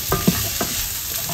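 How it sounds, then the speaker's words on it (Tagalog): Frying in oil with a splash of coconut milk, a brief close sizzle with a couple of soft stirring scrapes over a steady hiss. "At habang ginigisa po natin yan, maglalagay po ako ng konting gata"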